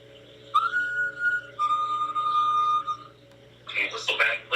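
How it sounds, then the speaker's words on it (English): During a ghost investigation at the Thomas House, a thin, steady whistle holds two long sustained tones in a row, followed by a short, rough burst of noise. "we were able to capture a second whistle, almost identical to the first."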